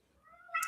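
Single short cat meow, close and fairly quiet, rising in pitch and loudness toward the end.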